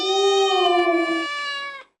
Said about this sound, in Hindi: ये तो बिल्ली की आवाज है।